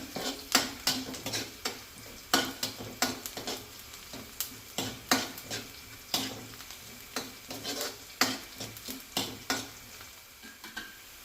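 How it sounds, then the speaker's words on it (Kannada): Ingredients for a bottle gourd buttermilk sambar are roasted in a pan with a soft sizzle and repeated sharp scraping and stirring strokes of a spatula, close and steady throughout. "ಹಸಿ ವಾಸನೆ ಹೋಗುವವರೆಗೆ ಹುರಿಬೇಕು ಇದನ್ನು"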